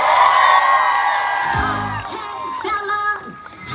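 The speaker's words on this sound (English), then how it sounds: "please give her a big round of applause" A crowd at a Pride village event in Dublin whoops and cheers for a drag queen, loud, bright yelling that swells, dips, then rises again in scattered shouts.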